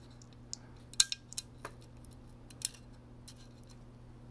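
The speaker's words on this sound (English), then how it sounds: "we're going to pierce this warning sticker." Piercing a warning sticker on a Tesla gearbox, heard as a few faint, sharp metallic ticks and clicks over a low steady hum, close but quiet, with no talk.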